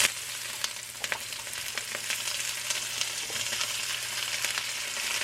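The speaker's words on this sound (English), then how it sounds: "Now I'm just going to add a little bit of that oil back into my pan. And I'm going to go ahead and add my vegetables in." Vegetables sizzling in a hot oiled pan for shrimp lo mein, a steady close crackle of frying with sharp pops and stirring scrapes throughout.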